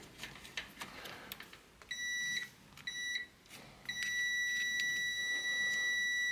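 A multimeter in continuity mode tests the door switch of a Panasonic microwave: two short electronic beeps, then one steady tone that holds to the end, clear and close over faint handling noise.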